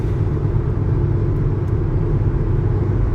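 A Hyundai Elantra GLS with a 2-liter engine cruises at 80 mph and about 3,000 RPM, giving a steady, loud low drone of engine and road noise from inside the cabin with no talking.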